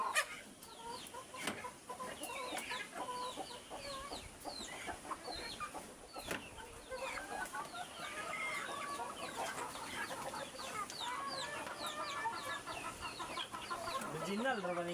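Native chickens cluck busily and continuously while being fed in a coop, many birds overlapping at close to mid range, with occasional faint voices in the background.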